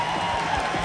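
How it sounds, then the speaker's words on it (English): A concert crowd at a casino hotel applauding and cheering, a brief loud wash of dense clapping with a raised cheering tone running through it, no separate voice on top. "Give yourselves a round of applause."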